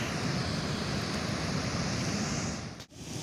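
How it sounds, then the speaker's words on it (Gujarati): Water pours through three open gates at Dhori Dhaja dam in Surendranagar, a loud, steady, broadband roar that dips briefly near the end. "કેટલું પાણી આવી રહ્યું છે।"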